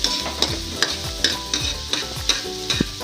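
A utensil stirs pork binagoongan with onions frying in a pan, giving a steady sizzle broken by regular scraping strokes about every half second, close and alone.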